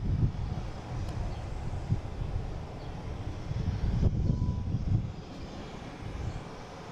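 A Boeing 737 going around at an airport produces a distant, steady jet roar, swelling slightly midway, with wind buffeting the microphone.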